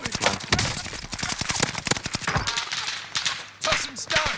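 Rapid bursts of video game gunfire crackle almost continuously in a World War II Pacific multiplayer match, dense overlapping shots near and far mixed with other battle noise.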